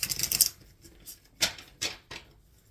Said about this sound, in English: Shuffling for Taurus.